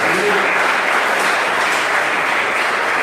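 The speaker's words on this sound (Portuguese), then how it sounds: "Dê uma salva de palmas por Cristo." A church congregation applauds steadily and loudly for about three seconds, a dense wash of clapping from many hands with no pauses.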